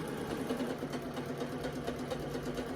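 Sewing machine runs slowly and steadily through several layers of a self-drafted sundress bodice, a continuous close motor hum with a rapid, even stitching pulse throughout, alone with no voices.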